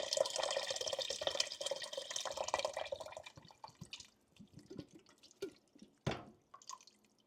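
A 14.5-ounce can of liquid is poured into a very thick cushaw squash soup, a steady close splashing pour for about three seconds that thins into scattered drips and small clinks.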